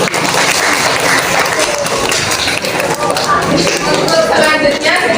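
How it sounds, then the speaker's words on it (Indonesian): Classroom applause for a student group after its presentation, a dense, steady wash of many hands clapping close by that fills the whole stretch, with voices mixed in beneath it. "Tepuk tangan untuk kelompok 1."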